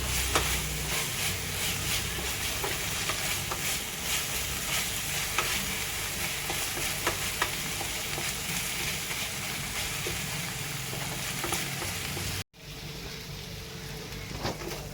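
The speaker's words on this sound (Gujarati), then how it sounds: "હવે આપણે આદુ મરચી અને લસણની પેસ્ટ એડ કરી દઈશું। એને પણ આ રીતે આપણે સાતળી લઈશું" Ginger, chili and garlic paste sautéing with onions in a pan, a steady close sizzle with faint stirring scrapes that cuts off abruptly near the end before the frying resumes.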